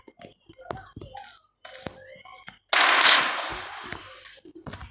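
Gunfire in the PUBG video game: a sudden loud burst of rapid automatic shots midway that fades out, surrounded by quieter game noises and a person talking before and after.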